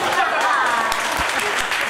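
Applause from an audience at a college symposium, a steady dense wash of clapping that fills the whole moment, with some voices mixed in.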